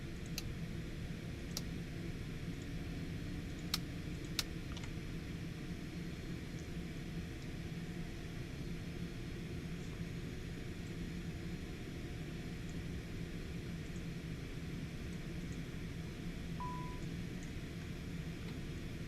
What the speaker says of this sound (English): Let's get the APU powered up.